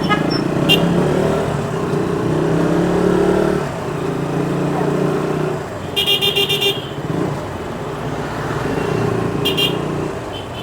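Busy road traffic in Sainthamaruthu, Kalmunai, with engines rumbling and several bursts of car and vehicle horns honking nearby while someone talks over it.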